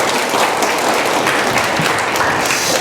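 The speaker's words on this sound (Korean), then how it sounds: "이 정도면 박수 한번 해주셔야 되는데요." A church congregation applauds together, a dense, steady wash of clapping filling the room at close range for the whole stretch without letup.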